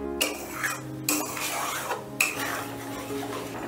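A spoon scrapes and clinks around a metal pan as yogurt is stirred into masala for shahi paneer, with sharp knocks against the rim between steady scraping strokes and a faint sizzle beneath.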